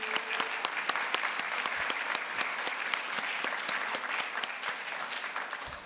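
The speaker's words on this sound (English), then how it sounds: "I just want to say a big round of applause to our family, friends, and mentors" Audience at a medical college graduation convocation breaks into sustained applause, a dense wash of many hands with individual sharp claps standing out, fairly distant and steady.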